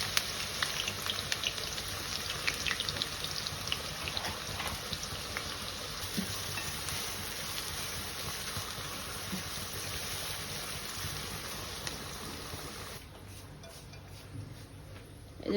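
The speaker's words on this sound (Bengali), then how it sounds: "অন্য চুলায় আমি পেঁয়াজ বেরেস্তা করে নিচ্ছি।" Onions frying in hot oil in a pot beside simmering beef curry, giving a steady, even sizzle and crackle throughout that quiets slightly near the end.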